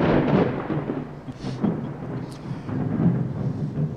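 A deep rolling rumble of thunder swells and fades over about four seconds as a quiz show sound effect, loud and close, with a hiss like rain beneath it.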